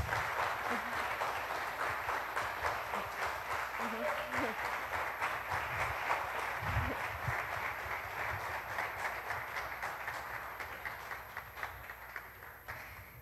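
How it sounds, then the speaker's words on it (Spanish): Sustained audience applause at a university lecture on Don Quixote, a steady wash of many clapping hands lasting throughout, with some voices mixed in underneath. "un aplauso para él, por favor"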